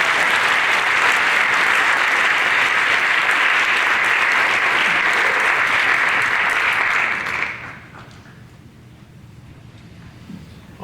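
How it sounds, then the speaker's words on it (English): Audience applause in a high school auditorium after a band concert, loud sustained clapping filling the room for about seven seconds before cutting off to quiet room tone. "And can we give them another round of applause?"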